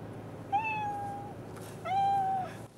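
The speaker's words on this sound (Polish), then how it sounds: "Jaki dźwięk wydaje kot?" A car voice assistant in a Mercedes E 220d plays a recorded cat meowing twice: two clear, drawn-out meows about a second apart, close and distinct.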